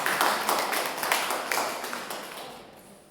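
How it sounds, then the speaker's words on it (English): Classmates clap for a student named Hawa during a medical lab technology lecture: a short, faint burst of scattered hand claps that fades out over a few seconds, with no voices over it. "Everyone clap for Hawa"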